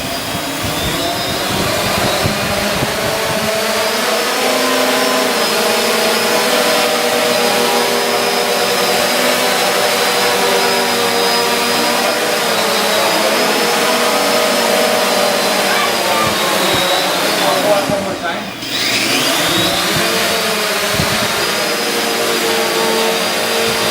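Delivery drone with eight motors running, a loud, continuous, high-pitched whirring drone that holds steady for a long stretch and dips briefly near the end, with a voice speaking faintly underneath.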